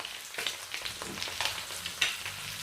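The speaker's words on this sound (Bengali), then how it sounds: "ডিমগুলোতে এরকম একটু পোড়া পোড়া দাগ লাগিয়ে ভেজে নিতে হবে" Eggs fry in a pan, giving soft, uneven spitting and popping close by, with a few sharper crackles over a quiet sizzle and no voices.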